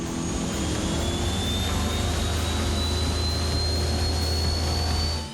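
A jet boat racing up the Mataura River in New Zealand gives a loud, steady engine roar with a rising whine, continuous and close throughout.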